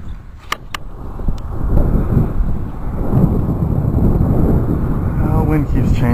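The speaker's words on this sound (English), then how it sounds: "Wind keeps changing on me." Steady, loud wind buffets the microphone outdoors at a model plane flying field for an F-117A test flight, giving a continuous low rumble with a few brief sharp clicks early on.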